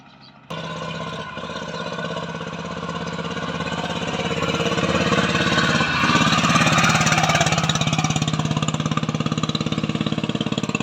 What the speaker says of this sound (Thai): เป็นเครื่องยนต์คูโบต้านะครับ 11 แรงนะครับ ตัวนี้ 11 แรง นิ่ม ๆ เลยนะครับ